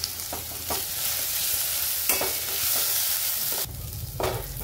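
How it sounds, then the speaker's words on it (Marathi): Green chili paste with turmeric sautés in a pan for a vegetable dish, giving a continuous, fairly loud sizzle. A few sharp stirring scrapes are heard, without any voices. "आता हे हिरव्या मिरचीचं वाटण आपलं चांगलं परतून झालंय"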